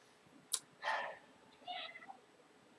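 A house cat close to the microphone gives a short sharp sound, then a drawn-out meow and a softer, broken meow, quiet against near silence with no talk.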